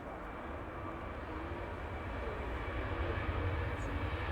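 Singapore Airlines airliner at Manchester Airport, heard as a broad distant jet roar that slowly grows louder, with no talking.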